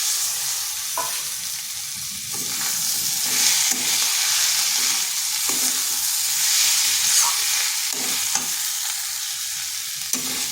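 Wild mushrooms (chatu) and potato fry in a pan, with a steady loud sizzle and hiss throughout, broken by occasional scraping stir strokes.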